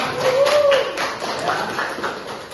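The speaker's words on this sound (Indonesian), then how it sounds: "kita tepuk tangan untuk kita semua" A classroom of students gives a short round of hand clapping at the end of a lesson, with a few distinct claps and some voices mixed in.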